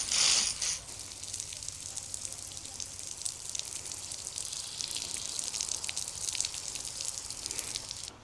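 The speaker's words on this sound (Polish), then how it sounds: "Teraz to trzeba wodą zlać" Water splashed and poured over newly laid garden edging in a yard, a continuous watery hiss and trickle with faint mechanical clicking, close by and steady throughout, with no voices.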